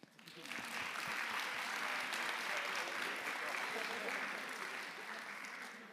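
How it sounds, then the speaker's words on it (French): Warm applause from a large audience at a Ma Thèse en 180 Secondes final, swelling in quickly and holding as a dense, even wash of many hands clapping, tapering slightly toward the end. "on peut encore applaudir?"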